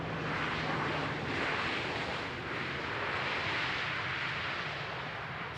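A KLM airliner landing at Amsterdam Schiphol on runway 18R rolls out at high speed, giving a broad, steady engine and wind roar heard from a distance, swelling slightly and then holding.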